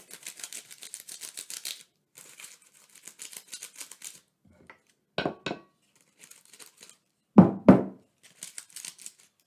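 Kitchen foil crinkled, tapped and crumpled in a series of dry rustling bursts, then a few louder sharp knocks and crackles close by, with short pauses between, heard alone with no talking.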